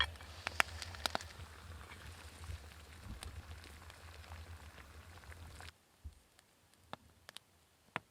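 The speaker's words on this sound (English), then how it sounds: "Water is boiling, so I just gotta heat it up." Water boiling on a camp stove at a bushcraft overnight camp, a faint steady bubbling hiss with scattered pops and clicks that drops away to near-silence with only a few sharp ticks.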